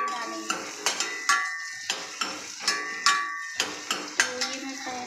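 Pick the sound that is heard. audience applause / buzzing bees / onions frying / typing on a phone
onions frying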